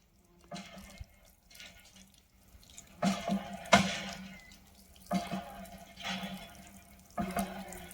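Roadside hand pumps giving water in bursts, splashing and gushing in several separate surges over a low background, close by, with no speech.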